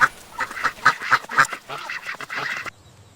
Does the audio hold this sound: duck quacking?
yes